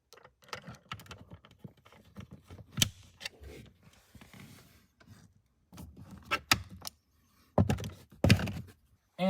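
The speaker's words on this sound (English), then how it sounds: "we simply just tighten down on these two flat screws" Two flat screws being tightened on a plastic trim cover inside a BMW G20 3 Series cabin give a series of close, irregular clicks, ticks and thunks, with denser handling knocks near the end.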